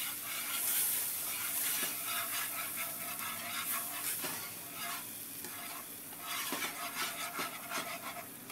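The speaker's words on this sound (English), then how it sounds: "Get all that roux mixed into there" A spoon scrapes steadily around a pot as roux is worked into spicy squash soup, a continuous close rubbing and stirring texture over a soft sizzle, with no talking.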